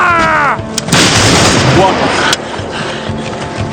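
A rank of soldiers fires a musket volley in a 1993 Napoleonic-era TV drama, a loud broadband crash after a shouted order, with a sharp second crack and lingering rumble.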